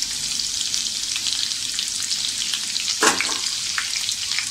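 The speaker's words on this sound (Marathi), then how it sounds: "छान आपण हे व्यवस्थित परतून घेऊया जेणेकरून लसणीचा आपला कच्चेपणा निघून जाईल." Green chilli and finely chopped garlic cloves frying in oil for egg bhurji, a steady close sizzle throughout with one brief louder stir or clatter near the end.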